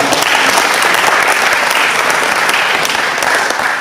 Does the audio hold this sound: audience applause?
yes